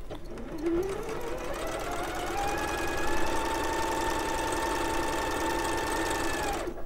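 A domestic sewing machine stitching a quarter-inch seam on strips of fabric for patchwork, a steady whirring hum that ramps up quickly and runs continuously, close and clear with no talk.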